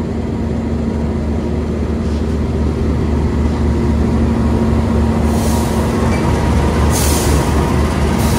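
A Jayabaya passenger train runs into Tegal station, its steady loud rumble of rolling wagons continuing throughout with a low hum and brief bursts of high wheel hiss or squeal near the end, no talk.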